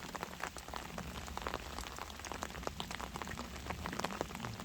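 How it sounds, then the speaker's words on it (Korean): Steady autumn morning rain falling on a countryside hydrangea garden, a dense continuous patter of drops on surfaces, close and even throughout with no talk. "비가 오는 가을 아침입니다."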